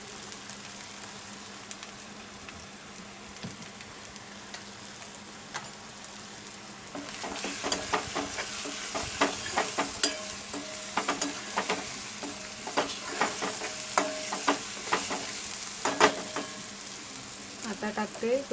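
Onion sizzles in a pan with turmeric for an egg curry, a soft steady frying hiss that turns louder and crackly as it is stirred, with scraping strokes toward the end.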